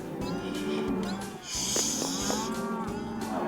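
Cattle at a ranch branding give a loud, drawn-out moo close by, set against steady outdoor noise with brief shouts in the background.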